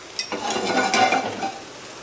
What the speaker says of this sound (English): I'm gonna brown this into the other pan that I have over here.